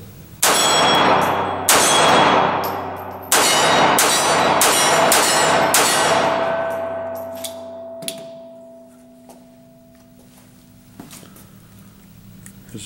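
A SIG P230 .380 ACP blowback pistol fires at steel targets: five sharp shots in an uneven rhythm, each followed by a bright ringing clang from the steel that fades out. One softer ping comes after the last shot. No talking.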